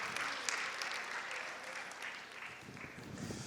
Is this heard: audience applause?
yes